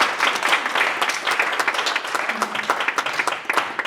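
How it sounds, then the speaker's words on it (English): An audience at a student leadership academy ceremony breaks into steady applause, a dense, even wash of many hands clapping that carries on for several seconds before tapering slightly. "can we give a little applause for the SLA?"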